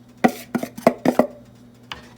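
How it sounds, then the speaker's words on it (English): A spoon knocks and scrapes against a pot while choux dough is stirred, about six distinct sharp clacks in an uneven rhythm, close and clear over a low steady hum. "add your flour mixture and stir with a spoon until the mixture comes together in a ball"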